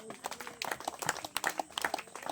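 A church congregation clapping together, a loose, rhythmic patter of hand claps at moderate volume, steady across the moment.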